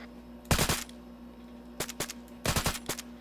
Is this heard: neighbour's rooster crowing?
no